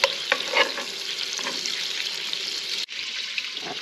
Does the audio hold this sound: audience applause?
no